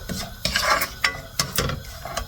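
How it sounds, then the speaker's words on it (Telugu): Ingredients for sheer kurma fry over a low flame, a soft sizzle broken by several sharp scrapes and clinks of a spoon stirring against the pan. "చిన్నగా పెట్టుకొని ఫ్రై చేసుకుంటున్నా నేను"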